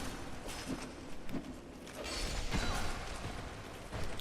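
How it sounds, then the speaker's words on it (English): A heavy castle door mechanism in the Dark Souls 2 Drangleic Castle grinds open with a creaking, ratcheting clatter and a couple of sharper clunks, the low rumble building midway and holding steady to the end. "Okay, door is open."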